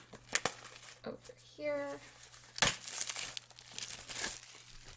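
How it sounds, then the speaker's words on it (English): Shrink wrap is torn and crinkled off an OmniCharge AC power bank box in sharp, close bursts of crackling plastic, with brief speech partway through. "Now, it came shrink wrapped, so we'll just rip this off."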